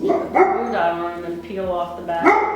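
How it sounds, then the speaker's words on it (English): Pet dogs bark in the background of a home craft room, several short yips and barks spread over a couple of seconds beneath a woman's close, steady talking. "You can hear my doggies barking in the background."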